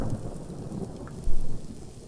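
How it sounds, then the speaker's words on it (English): Video-game thunderstorm in a survival game: steady rain hiss with a low rumble of thunder swelling louder near the end, no voices. "Oh crap, now we're going to have a frigging storm."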